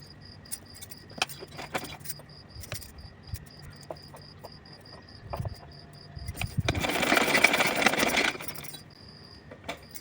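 Stitching on a small summer dress for a size 2-3 Kanha ji idol: a steady whirring burst of about a second and a half, preceded by scattered light clicks and handling taps, no talking.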